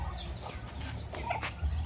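Chickens cluck softly in short, scattered bursts, fairly close, over a low background hum.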